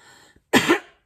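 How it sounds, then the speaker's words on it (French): A single short, harsh cough from a person with a small, nagging cough bursts out close and loud after a brief quiet moment, then fades quickly. "J'ai une petite toux là"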